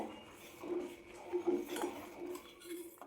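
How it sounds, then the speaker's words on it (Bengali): A spoon stirs milk and cream in a pot while yogurt is made at home, giving soft intermittent clinks and scrapes against the metal at moderate loudness. "এগুলোকে একটু চামচ দিয়ে এভাবে করে দুধের সঙ্গে মিশিয়ে নেবেন এইভাবে নাড়াচাড়া করে দুধের সঙ্গে মিশিয়ে নেবেন"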